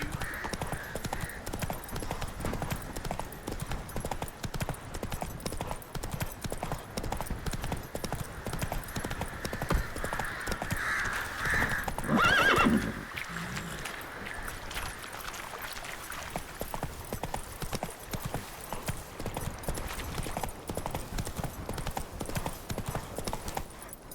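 Roach, Geralt's horse in The Witcher 3, clip-clops in a steady galloping rhythm from start to end over a constant outdoor background, with a brief whinny near the middle.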